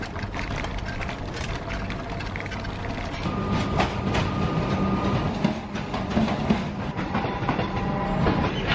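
A Melbourne train passes close by, a steady rumble with rhythmic clickety-clack of wheels over rail joints, growing slightly louder toward the end.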